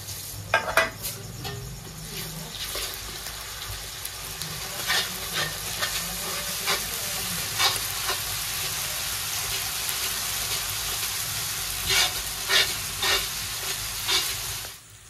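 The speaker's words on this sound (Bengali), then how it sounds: "পেঁয়াজটা একটু লাল লাল করে ভেজে নিয়েছি, এরপরে দিচ্ছি রসুন বাটা" Garlic and ginger paste sizzles and fries with browned onions in a pan, a steady hiss broken by clinks and scrapes of a spoon stirring against the metal, close and continuous throughout.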